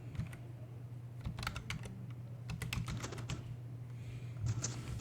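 Computer keyboard keys, including the space bar, are tapped in quick, irregular clusters of crisp clicks close by over a steady low electrical hum, with no one talking.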